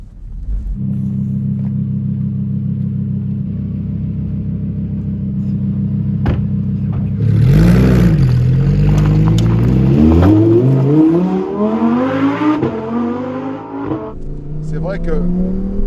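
A Lamborghini Huracán Performante with a naturally aspirated V10 idles with a deep burbling rumble, then revs hard and accelerates on a road, its pitch climbing through several gear changes, loud and close.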